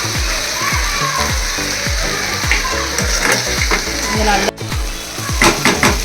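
Okra stir-fried in a pan with mustard seeds, urad dal, dried chili, salt and chili powder, loud close sizzling with a rhythmic series of spatula scrapes and stirs, a short clatter near the end.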